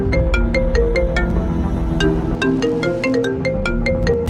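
Electronic phone ringtone with a repeating melodic chime, rising and falling tone patterns that ring steadily and loudly across the whole stretch, close and alone with no talk.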